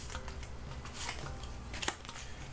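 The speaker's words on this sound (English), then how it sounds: "Shuffle these up." Cards from the Tiny Epic Quest board game are shuffled by hand, a soft, quiet run of riffling and flicking close by with one sharper snap near the end.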